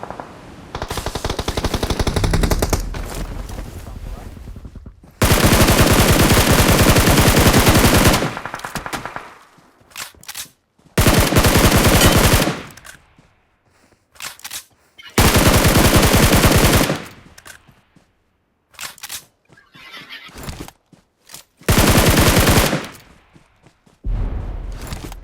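Bursts of machine gun fire from the battle royale game PUBG, several loud sustained volleys separated by short gaps and a few brief single shots, with no talk.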